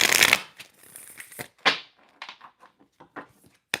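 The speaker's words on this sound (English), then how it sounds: "Just gonna shuffle the cards real quick." A deck of tarot-style reading cards is shuffled in a quick, dense rustling burst, followed by a scatter of softer taps and card flicks, close and alone with no talking.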